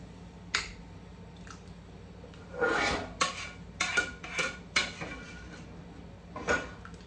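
Homemade salsa verde being ladled from a pot into a canning jar in a home kitchen: a series of quiet clinks, scrapes and wet taps spaced irregularly, soft and close with no talking.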